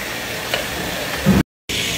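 Chopped pork crackling (torresmo) sizzling in a frying pan in a restaurant kitchen, a steady close hiss of frying with a brief louder thump before a short dropout, then the sizzle resumes.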